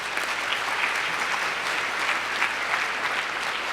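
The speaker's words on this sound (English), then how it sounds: "Please give these fantastic folks a round of applause." Steady applause from a university forum audience fills the whole stretch, a dense wash of clapping at even volume.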